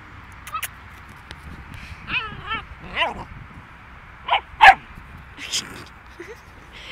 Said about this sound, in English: Who are you growling at? What are you barking at?